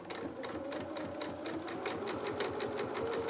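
A sewing machine stitches fabric for a small dressing gown, a fast, even mechanical whir and tapping of the needle running steadily close by.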